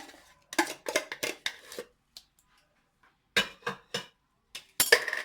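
Iraqi dolma ingredients being mixed with tomato paste in a bowl: irregular bursts of clattering and clinking from a utensil against the dish, separated by short quiet gaps.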